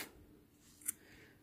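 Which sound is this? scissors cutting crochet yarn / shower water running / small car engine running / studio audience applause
scissors cutting crochet yarn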